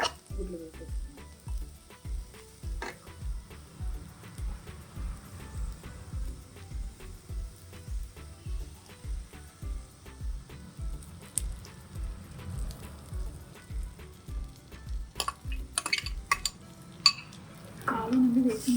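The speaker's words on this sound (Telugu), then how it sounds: "ఇప్పుడు మనం ఇరగొట్టి పెట్టుకున్న గుడ్లు వేసేస్తున్నాం" Beaten eggs frying in a pan for egg burji make a steady low sizzle. Regular soft rhythmic scraping of stirring runs through it, with a few sharper utensil clinks near the end.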